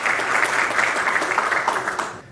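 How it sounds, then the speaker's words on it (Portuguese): A crowd claps steadily at a regional environmental and water-preservation event in Manhuaçu, dense continuous applause filling the moment before fading out at the end. "Uma salva de palmas para esse momento histórico para o meio ambiente"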